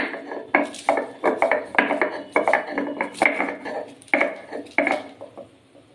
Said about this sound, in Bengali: কাঁচা লঙ্কার আদাটাকে আমি ভালো করে বেটে নেব।